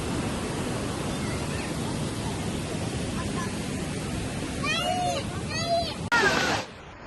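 Broad, steady wash of water below a waterfall in Wayanad where many people stand and play, with a few brief higher chirps and a sharp knock near the end.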